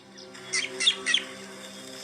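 A drongo gives a short alarm call of about three sharp, bright chirps in quick succession, moderately close, with a steady low hum underneath and no talking.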